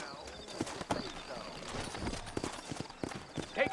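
Horses' hooves clip-clop at a walking pace in a Red Dead Redemption frontier town, each hoof strike short and fairly close. A voice talks over the steady hoofbeats and a few faint bird calls.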